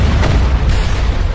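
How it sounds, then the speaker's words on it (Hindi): A loud, heavy boom of an explosion sound effect, a deep rumbling blast that fills the short stretch with a sharp burst near the end and no voice over it. "और एक भयानक विस्फोट हो गया।"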